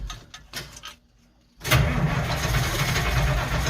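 A White 2-105 tractor engine, just fitted with a replacement clutch, cranks briefly after a short pause, then catches and settles into a loud, steady rumbling idle close by.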